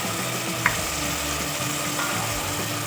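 Meat sizzles steadily in a pan for a meat curry with shorba while spices such as red chili are added, with a continuous loud hiss and a single brief clink of a spoon; no one speaks.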